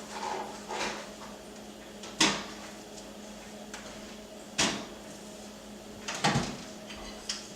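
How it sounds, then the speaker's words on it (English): A toaster oven door clacks open and shut as toast goes in, with several distinct close knocks and clunks spaced a few seconds apart in a quiet kitchen. "So I'm going to go ahead and pop my toast into the toaster oven"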